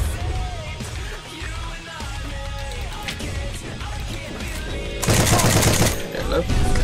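An M1919 Browning machine gun fires in the video game Heroes and Generals, sustained loud bursts over a dense game mix, swelling sharply toward the end.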